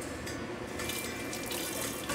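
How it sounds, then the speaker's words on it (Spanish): Water pours steadily into a cooking pot in a home kitchen while tacos de lengua are being prepared, a soft continuous splashing and gushing that brightens partway through, with no talk. "le agregamos agua."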